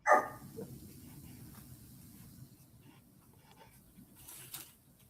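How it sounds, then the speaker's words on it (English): A puppy barks once up close at the start, then keeps up a faint, agitated stream of yips and scrabbling underneath a steady low hiss in the background. "I got a puppy going crazy in the background."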